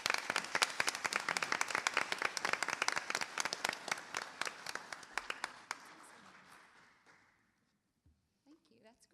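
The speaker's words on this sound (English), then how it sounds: "let's give these two ladies a round of applause." Audience at a board meeting claps in a round of applause, dense and steady at first, then thinning and fading out over several seconds until only a few faint sounds remain.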